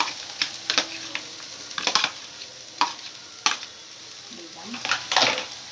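Green chilies and onion fry over high heat, a low sizzle beneath quick clattering stirs and scrapes of a utensil in the pan, close and uneven, with a brief spoken word.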